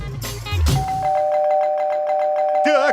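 A doorbell rings indoors in the middle of the night during a film comedy scene, giving a clear sustained chime with buzzing overtones after a couple of bumps and a short voice, ending in a wobbly electronic tone.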